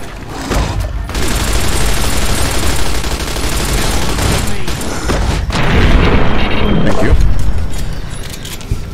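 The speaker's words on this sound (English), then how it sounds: "And for that, he gets light machine gun." Sustained light machine gun fire in the Fallout: New Vegas video game during a fight with Deathclaws: loud, dense rattling bursts nearly continuous for several seconds with booming impacts, swelling toward the end before tapering off.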